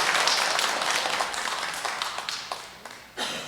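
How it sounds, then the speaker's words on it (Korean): An audience at a monthly meeting claps in a soft, scattered round of applause, the individual claps thinning out and fading toward the end. "이분들 위해서 힘찬 수고의 박수 부탁드리겠습니다"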